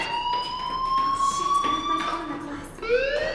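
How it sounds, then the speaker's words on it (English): A school fire alarm rings in the video game Life is Strange, a steady electronic tone with sweeping harmonics that sound continuously and moderately loud, with soft game voices beneath it. "Do you hear that fire alarm?"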